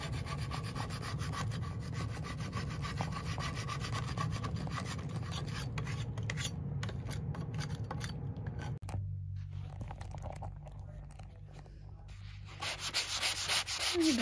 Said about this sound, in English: I'm making pretty good progress sanding this down